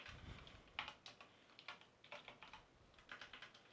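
Typing on a computer keyboard during a C programming lesson, a steady run of light, close key clicks in uneven bursts with no voices over it.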